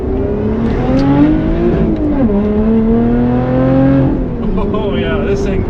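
A 2020 Lotus Evora GT accelerates hard, its engine note climbing steadily through the revs with a brief dip at a gear change before rising again, loud and close from inside the car.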